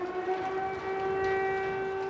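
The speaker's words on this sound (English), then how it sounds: "Air raid sirens in Uman." A steady, sustained air raid siren wail in Uman, Ukraine, with a strong harmonic tone, holding a constant pitch throughout, loud and continuous with no voices.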